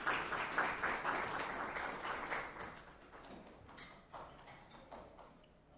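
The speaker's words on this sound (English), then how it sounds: "Let's welcome him with a round of applause" Audience applause welcoming a guest onto a television morning show, a dense burst of clapping that starts loud and then thins out and fades over several seconds.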